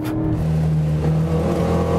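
Škoda Octavia engine revving while driving, a loud, steady close-up drone with a rising pitch and constant road and wind noise.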